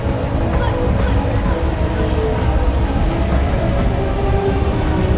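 Loud, steady mechanical rumble and rattling of a large Vekoma roller coaster train climbing a lift hill at Bobbejaanland, continuous throughout with faint voices mixed in.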